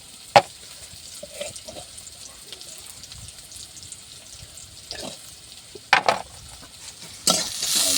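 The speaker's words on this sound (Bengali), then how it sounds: "সুন্দরভাবে ফুটছে, খুব লাল হয়ে যাবে মশলাগুলো" Spices with cumin powder, turmeric and salt simmering in a curry for a taro and egg dish, a quiet bubbling hiss with a few sharp spoon knocks and scrapes, then a louder burst of hiss near the end.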